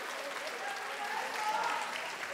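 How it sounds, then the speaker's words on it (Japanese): Crowd applause at a Krush women's atom-weight kickboxing title match, a fairly soft, steady patter of clapping from the arena audience heard throughout. "リング下から拍手を送っています"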